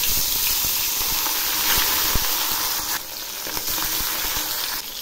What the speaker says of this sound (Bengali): এখন আমি মাছগুলো ভেজে নিচ্ছি